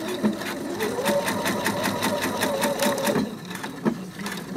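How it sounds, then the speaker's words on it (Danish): A sewing machine stitches a hem on baggy trousers, a loud, close, fast rhythmic needle chatter that runs for about three seconds, then eases off into a slower, uneven patter. "Og så skal jeg sy fra forkanten og ud en centimeter nede"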